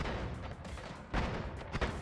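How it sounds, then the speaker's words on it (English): Explosions in the video game Noita, a sequence of low booms and sharp blasts with one stronger burst midway and another near the end, fairly faint overall. "that second explosion was it"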